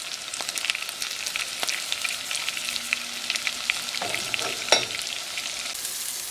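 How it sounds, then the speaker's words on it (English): Beef meatballs brown in a pan with a steady, close sizzle, with occasional crackles and light scrapes as they move; no voices. "right now I'm just letting them lightly brown"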